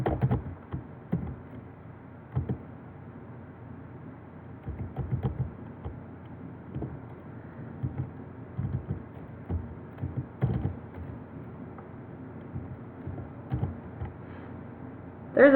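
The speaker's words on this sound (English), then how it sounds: "I'm going to hit enter after the margin bottom, space bar twice. I'm going to type in background." Fingers tap out code on a computer keyboard in irregular bursts of soft clicks with short pauses, close and fairly quiet, including space-bar presses, with no talking.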